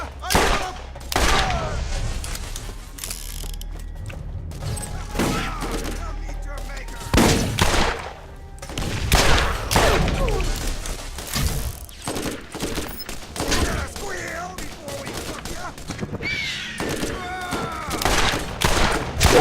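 Masher revolver fitted with barrel 2, fired in the game Borderlands, cracking out in loud, close shots at irregular intervals, some in quick clusters, with quieter gaps between.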